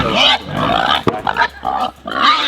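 Pigs grunting and squealing close by on a farm, several overlapping snorts and grunts in irregular bursts with a short sharp break near the middle.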